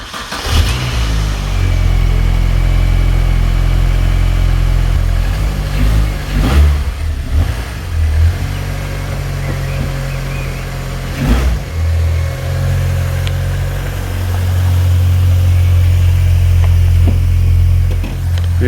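A salvage Mini Cooper R52 engine cranks and catches, then revs up and down in loud surges before settling into a rough idle, heard close by.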